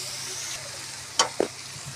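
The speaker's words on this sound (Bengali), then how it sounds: "ভালো করে মশলাটা তেলের সঙ্গে মিশিয়ে নিই এবং ওর মধ্যে দিয়ে দিচ্ছি 2টো কাঁচা লঙ্কা" Spice paste frying in oil in a jackfruit curry, a steady low sizzle with a couple of sharp scraping stirs near the end, close and without speech.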